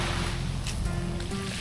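Sea heard from a boat off Malita, Davao Occidental, a dense, loud wash of waves and rushing water mixed with wind and hull noise, continuous throughout.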